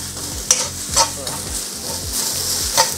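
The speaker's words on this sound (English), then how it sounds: "my cabbage, give that a good stir" Spring roll filling of cabbage and carrots being stirred in a hot pan, a steady close sizzle broken by a few sharp scrapes and clatters of the utensil, with no talking.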